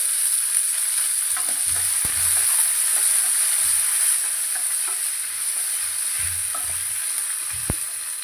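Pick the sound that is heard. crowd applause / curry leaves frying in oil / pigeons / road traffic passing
curry leaves frying in oil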